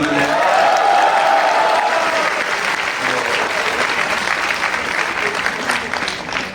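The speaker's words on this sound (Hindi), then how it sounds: "जोरदार तालियां बजा दीजिए" A large student audience at IIT Roorkee applauds loudly, a dense continuous wash of clapping that stays strong throughout and tapers slightly at the end, with some cheering voices mixed in.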